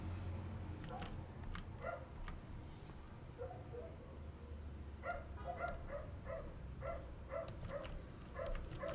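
A dog barks in repeated short yaps and yips from the middle distance, the bursts growing more regular in the second half, set against steady low background rumble.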